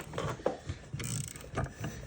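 A gear puller works a bearing off the axle of a 2010 Kubota ZD323 mower, giving short close metallic clicks and creaks in an uneven rhythm, fairly quiet and with no talking.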